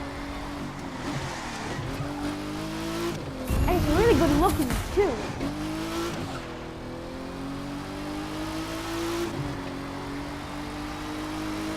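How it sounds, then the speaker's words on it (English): A racing car engine in the video game The Crew 2 revs and whines through gear changes, with tire squeal and a louder burst midway, while someone talks over it. "this is one of my favorite sounding cars out there"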